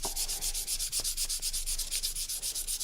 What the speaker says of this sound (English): I'm doing this quite aggressively, so don't be shy about sanding this.